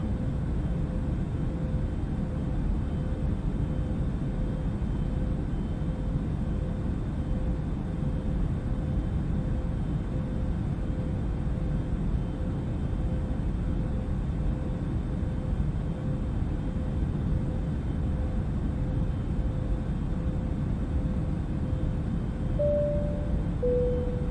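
A steady, loud engine drone from an airplane flying in a flight simulator video game, a constant broadband roar with an unchanging tone and a brief higher blip near the end, with no voices.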